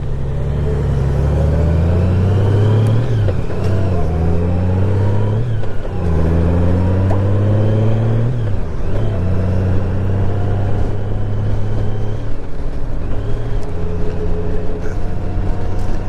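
Honda Goldwing GL1800 motorcycle being ridden through a residential area, its engine rising in pitch and dropping repeatedly as it shifts up through the gears, loud and close with wind rush throughout.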